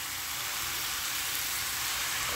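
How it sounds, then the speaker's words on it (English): Vegetable fried rice sizzles in a hot skillet, a steady bright hiss with a low crackle underneath, close and continuous. "Hear that sizzle."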